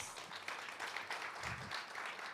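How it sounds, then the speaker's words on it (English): Audience applause for a speaker at an open innovation event, a steady wash of clapping filling the short moment without breaks or voices. "Please give him a round of applause."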